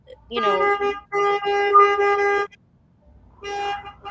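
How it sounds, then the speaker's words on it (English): Several vehicle horns honk in long sustained blasts from passing riders at an outdoor event, two extended toots close together followed by a shorter one after a brief gap, loud and fairly near. "They're honking, having a good time."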